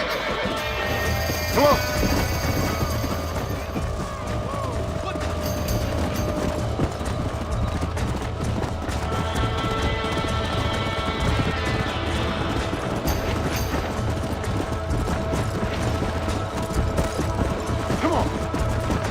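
A stallion whinnies and gallops in the video game Red Dead Redemption, with hoofbeats clattering steadily amid game action and a voice shouting briefly.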